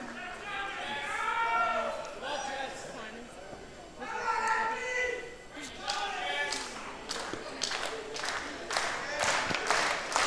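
A wrestling crowd at a live Sydney event roars and cheers, urging two downed competitors back to their feet; the noise swells in waves with scattered claps and thumps, and voices call out through the din.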